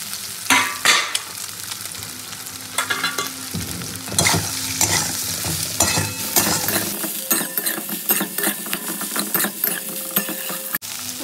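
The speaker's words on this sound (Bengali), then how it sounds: "এই তেলের মধ্যে সোয়াবিনটাও আমি একটু ভেজে নেবো।" Soybean chunks fry in hot oil in a wok, a steady close sizzle broken by repeated scraping and stirring strokes of a spatula against the metal, with a few sharper clinks.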